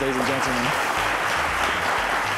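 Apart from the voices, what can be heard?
applause for a game show contestant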